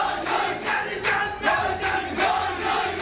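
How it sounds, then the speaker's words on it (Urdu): Employees of a Lahore private news channel chant slogans for Imran Khan, a crowd of voices rising in rhythmic shouted bursts about twice a second, loud and close with no other sound. "محسن نقوی کے چینل میں وزیر اعظم عمران خان کے نعرے لگ گئے۔"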